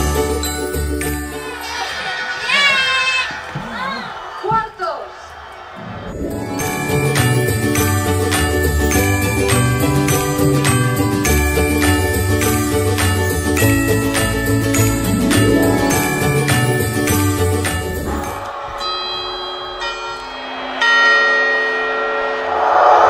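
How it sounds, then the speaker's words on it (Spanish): Church bells ring out loudly and steadily at midnight on New Year's Eve for a long stretch, with rich overlapping tolling, framed by quieter moments of faint chimes and background voices. "que han empezado las campanas."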